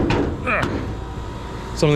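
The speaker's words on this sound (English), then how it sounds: "doors on the utility box don't open. This one does." A rusty, rotted metal door on a utility box is pulled open, giving a scraping creak followed by clunks and rattles, with a voice talking nearby.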